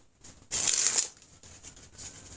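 A deck of playing cards riffles in one quick crisp burst, close and fairly quiet, followed by softer faint card handling.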